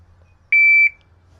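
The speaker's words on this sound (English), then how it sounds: "So that's the beep." A single short electronic start beep from a shot timer at a 3-gun range, a clean steady tone lasting under half a second against near silence.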